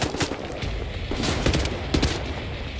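Rapid bursts of automatic gunfire in the video game Wolfenstein, loud and close with sharp repeated shots and several heavier volleys over about three seconds.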